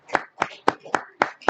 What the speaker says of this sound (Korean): 우리 뜨겁게 우리 박수로 응원해 주세요.